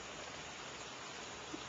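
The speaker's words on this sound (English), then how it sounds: "Do you like the rain?" Rain falls outdoors as a soft, even hiss, steady and faint throughout the brief moment, with no voices heard.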